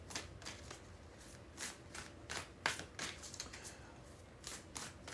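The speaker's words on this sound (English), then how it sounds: "3 more shuffles" A deck of oracle cards being shuffled by hand, a series of quick, crisp riffling bursts at an uneven rhythm, close and fairly quiet, with soft pauses between shuffles.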